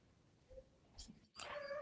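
A puppy gives quiet, high-pitched whimpers indoors: a brief faint whine, then a longer wavering cry near the end, set against a low background hum.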